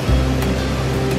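A waterfall in Costa Rica roars as a steady, dense rush of falling water, loud and continuous throughout, with no voices.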